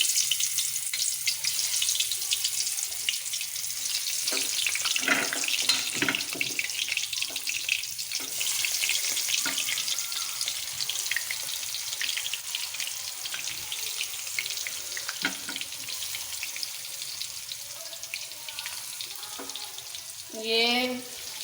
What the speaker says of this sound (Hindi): अब मैं इनको करूँगी फ्राई